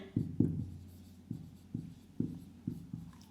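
Pen strokes on paper or a board while a maths lesson is worked out, a handful of short scratchy marks spaced irregularly, close and fairly quiet with no talk over them.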